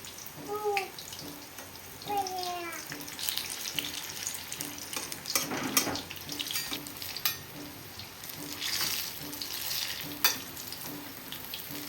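Chili bajji, green chilies in batter, fry in hot oil with a continuous bubbling sizzle that swells and fades in waves, plus occasional light clinks and faint background sounds.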